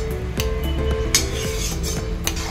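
Sugar syrup for Mysore pak being stirred in a pan, a spoon scraping and clinking against the metal in an uneven rhythm with soft bubbling underneath, close and without talk.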